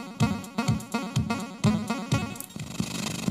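A Commodore 64 demo tune played on the matching SID chip, with punchy rhythmic bass pulses and bright chiptune tones in a quick repeating pattern, fairly quiet.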